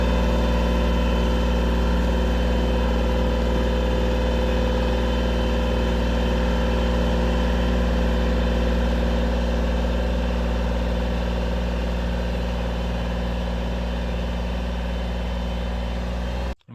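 Kubota tractor engine running close by in a field being planted with potatoes, a loud, steady low-pitched drone with a constant hum that holds for the whole stretch, then cuts off abruptly at the end, with no voices.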